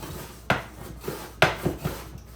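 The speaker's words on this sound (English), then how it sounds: "I'm going to give it just a couple slices." A knife cuts through a firm rutabaga on a board, giving two distinct slicing thuds followed by softer scraping taps, close and clear with no talk.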